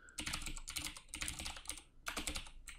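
Steady bursts of typing on a computer keyboard, with close, crisp clicks in quick clusters separated by brief pauses.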